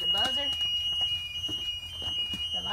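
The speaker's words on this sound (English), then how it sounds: "Did you hear the buzzer?" A school bus warning buzzer sounds steadily as a single high continuous tone through the whole stretch, moderately loud and near, with people talking over it.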